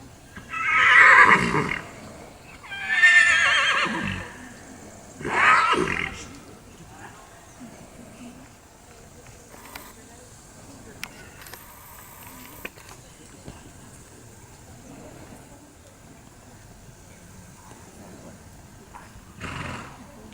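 A horse in a dressage arena gives three loud, drawn-out whinnies in quick succession, followed by a long stretch of quiet with faint scattered movement and a brief knock near the end.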